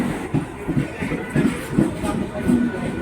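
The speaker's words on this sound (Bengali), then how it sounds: "সঠিক সময় ট্রেন চলে এলো" A train pulls into a station on a journey toward Thakurnagar, a low rumbling roll with faint rhythmic wheel clatter and a brief squeal, fairly close and steady throughout.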